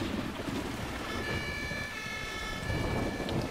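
In the firefighting game Emergency 4, steady rain hisses with low rumbling thunder underneath, and a faint siren-like tone drifts through the middle, continuous and without talk.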